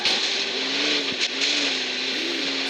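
Cars racing past on a track, a continuous loud engine roar with a faint rising and falling engine whine, steady and close, no voices.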